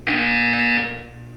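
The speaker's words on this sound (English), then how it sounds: "You will hear a buzzer." A loud, harsh buzzer sounds once in a Portal 2 test chamber, a steady tone held for most of a second before cutting off, heard up close on its own.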